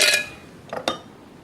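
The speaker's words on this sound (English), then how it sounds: "I'll put some ice into the blender" Ice cubes dropped into a blender jug for a mango lassi in Goa, a bright clink at the start followed by two quick, sharper knocks of ice against the container.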